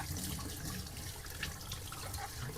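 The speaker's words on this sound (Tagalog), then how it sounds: "hugasan ko na tong repolyo at sitaw." Tap water running over cabbage and long beans being washed in a sink, a steady close splashing stream with uneven spatter as the vegetables are moved under it.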